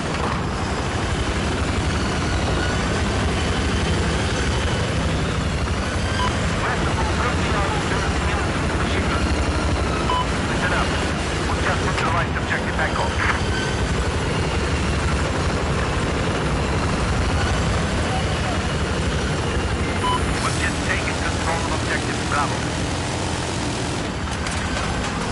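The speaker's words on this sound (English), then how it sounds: "Get that helicopter." Helicopter in the Battlefield 4 video game, a steady loud rotor and engine roar running throughout beneath dense gunfire and battle noise, with voices talking over the action.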